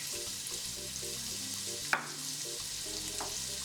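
Half a diced yellow onion sautés in pan fat left from browned meat, with a steady soft sizzle and occasional stirring clicks, plus one sharp knock near the middle.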